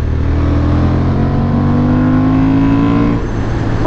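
Honda Hornet motorcycle engine pulling hard in fifth gear, a loud, steady rising whine that climbs in pitch for about three seconds before easing off, heard close up from the rider's position with heavy wind rush.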